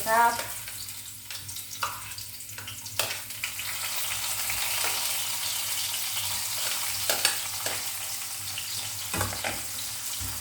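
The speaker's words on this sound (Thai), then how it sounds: "ผัดให้กระเทียมหอมหมดนะคะ" Garlic frying in oil in a wok or pan for a mushroom curry, a steady close sizzle with occasional scraping and stirring clatter from a utensil, running continuously without talk.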